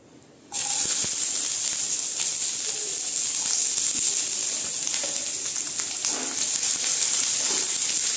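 Sliced onions hit hot oil in a pan already holding cinnamon and bay leaves for a Bengali masala khichdi, bursting into a loud, steady sizzle that crackles and hisses continuously up close.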